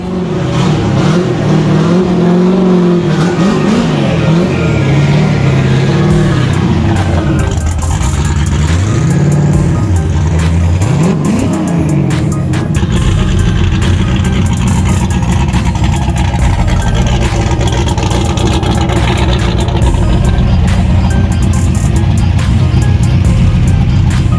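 A Ford 363 stroker engine with freshly set ignition timing runs loud and close, rising and falling through several revs before settling into a steady heavy rumble with a choppy, lopey idle.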